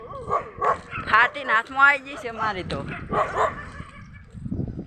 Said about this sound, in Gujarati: કૂતરા બહુ ભસેરા, તમને દેખાડી દઉં